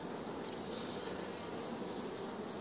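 Honey bees buzzing around an open beehive as frames are handled, a continuous close hum with faint chirps in the background.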